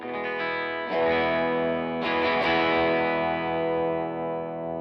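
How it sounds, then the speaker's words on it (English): An electric Melody Maker guitar through a Lincoln Overdrive channel at low drive gives a cleanish, slightly gritty tone: chords strummed near second one and again near second two, each ringing out sustained and full. "At low settings of drive, where you can get some cleanish tones"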